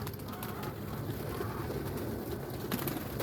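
Young homing pigeons coo on top of a loft's kit box, soft low coos repeating over steady outdoor background noise.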